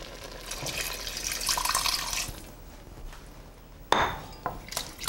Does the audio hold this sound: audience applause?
no